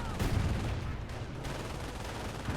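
Rifle fire from infantry squads crackles through a real-time strategy game battle, a dense, continuous wash of overlapping shots and distant explosions with no clear individual reports.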